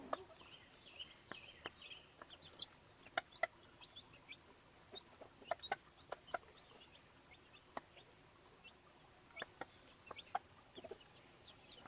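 Gamefowl mother hen clucking to her young chicks in a pen, short soft clucks in irregular bursts with faint chick peeps, fairly distant and quiet.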